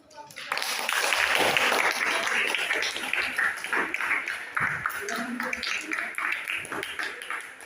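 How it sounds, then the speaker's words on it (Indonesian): A classroom audience applauds a student group, a burst of clapping that starts abruptly, holds steady for a few seconds, then thins into scattered claps, with voices talking underneath. "Sekali lagi berikan aplaus untuk kelompok"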